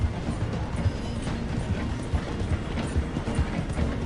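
Galloping horse hooves in Red Dead Redemption 2 running alongside a moving train, a steady loud rumble of rail wheels and rhythmic hoofbeats filling the whole stretch with no talk.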